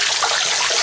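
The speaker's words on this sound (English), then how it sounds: "Now I'm going to add some more hot water." Hot water pouring into a container while soaking and cleaning a paracord rope, a loud, close, continuous splashing rush with no talk.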